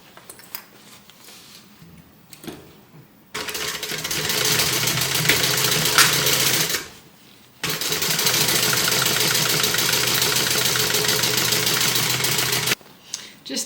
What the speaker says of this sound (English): we're going to stitch the sides closed